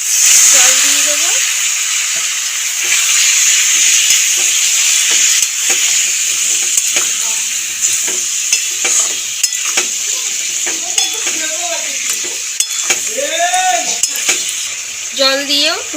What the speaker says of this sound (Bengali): জল দিয়েও একটুখানি ভালো করে নেড়ে ছেড়ে কষিয়ে নিলাম